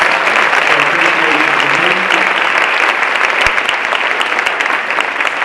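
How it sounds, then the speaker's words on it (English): A keynote audience gives a sustained round of applause, dense steady clapping from many hands throughout, loud and close with no pauses. "Let's give him one more round of applause."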